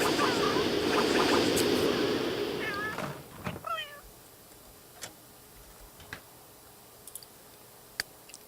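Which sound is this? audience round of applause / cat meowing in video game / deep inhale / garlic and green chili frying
cat meowing in video game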